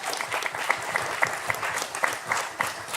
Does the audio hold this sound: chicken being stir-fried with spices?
no